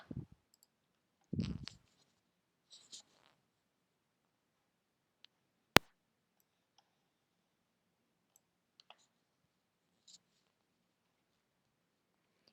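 Sharp mouse clicks on a backtest button in a trading script tutorial, several isolated taps spread across a quiet stretch, one loud crisp click midway and fainter ones elsewhere.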